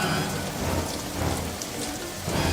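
Heavy rain pours steadily at night, a dense, close, unbroken hiss of drops drumming on surfaces, with low rumbling swells underneath suggesting distant thunder.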